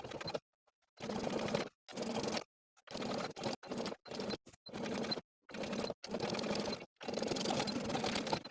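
A sewing machine topstitches a collar seam on a fleece sweater in short stop-start runs, each burst of rapid stitching separated by brief pauses, close and moderately loud.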